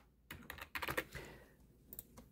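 Fingers tapping a short burst of keystrokes on a computer keyboard, quick clustered clicks up close and quiet, ending with a few scattered taps.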